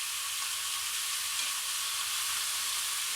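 Mutton seekh kebabs made from finely minced meat fry in a pan with a steady, close, hissing sizzle throughout and no voices.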